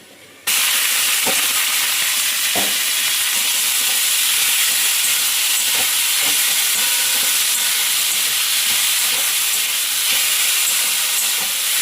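Radish greens are tossed into a pan of fried garlic and sizzle loudly, a steady close hiss of frying that runs unbroken, with a few faint clicks over it.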